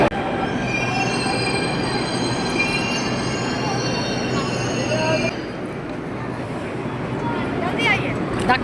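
A Delhi metro train rumbles along the rails with high metallic wheel squeals singing over the steady roar, loud and close throughout.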